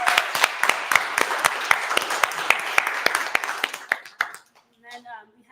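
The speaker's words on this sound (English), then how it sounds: "I want to give a huge round of applause to the class of 2023" Audience applause for a graduating class of 2023 at a seed launch day event, dense clapping with sharp individual claps standing out, fading out near the end as a voice begins speaking.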